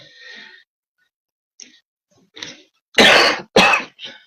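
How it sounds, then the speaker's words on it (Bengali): Several short, harsh coughs from one person, sporadic at first and then two loud, close bursts with a softer one after, with no talking. "কাশিটা এত বাড়ছে"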